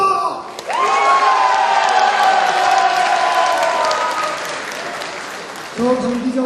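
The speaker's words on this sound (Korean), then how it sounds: "박수를 보내십시다" A crowd of party delegates at a Busan party leadership convention claps and cheers loudly, with sustained whoops and shouts over steady applause, fading briefly before a renewed burst at the end.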